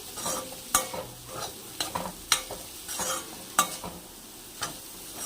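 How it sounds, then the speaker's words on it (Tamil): A beetroot stir-fry seasoned with salt being stirred in a pan, soft sizzling under a series of sharp scraping and clinking strokes at irregular intervals. "தேவையான அளவு உப்பு போட்டு அதையும் சேர்த்து நம்ம மிக்ஸ் பண்ணிக்கிறோம்."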